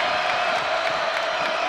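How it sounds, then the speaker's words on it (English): Dense basketball arena crowd at an Oklahoma State game against Baylor, a steady loud roar of cheering voices with no breaks, building support late in a game during a media timeout. "You can hear the crowd now getting behind them."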